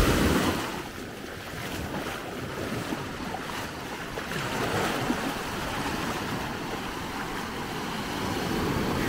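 A calm sea laps gently at the shore at Maspalomas on Gran Canaria, a soft, continuous wash of small waves mixed with steady wind rumble on the microphone, with no voices.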